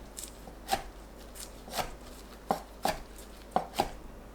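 A knife cuts fishcake into 1 to 1.5 cm slices against a cutting board in crisp, separate chops at an uneven pace, close up and fairly quiet.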